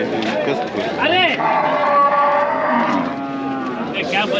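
Native cattle at a livestock market in Vaniyambadi moo loudly and repeatedly up close, over a busy crowd chattering and people talking nearby.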